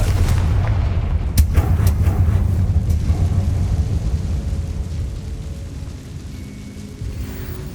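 Confringo blasting spell detonating in the Hogwarts Legacy video game: a sharp loud blast near the start over a dense, rumbling low roar that sustains and slowly thins out, followed by a few lighter crackling impacts.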